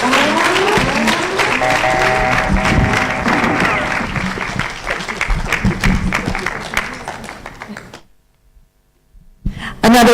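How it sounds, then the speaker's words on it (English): Sustained loud applause from a conference audience at a women's power and change event, dense clapping with crowd noise for about eight seconds before dropping to near silence, then a sudden sound at the end. "Another round of applause for Her Excellency Martha Karua."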